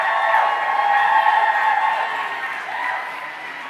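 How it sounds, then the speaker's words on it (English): Steady applause from a gala crowd fills the space, swelling slightly and then tapering off gently. "Let's give another round of applause to Danita."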